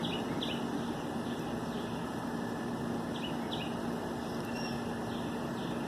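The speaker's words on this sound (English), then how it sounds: "That's a lovely bird singing." A bird sings faint, short chirping phrases over a steady, loud background rumble, the calls repeating at intervals.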